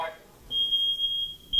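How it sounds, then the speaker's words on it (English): Canary wireless smoke detectors sound a single piercing, steady high-pitched alarm tone that holds for about a second, cuts out briefly and starts again, loud and close, after a short burst of noise. "you hear all the detectors blaring, all of them going at the same time"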